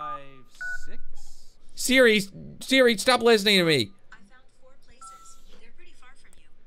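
Phone number tapped out in the game Dude Stop, a few short keypad tones at the start and near the end, clear and close, with someone talking loudly over the middle.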